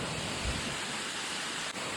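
Sea waves wash onto a free public beach in the UAE, a steady broadband rush of surf mixed with light wind noise, continuous and moderately loud.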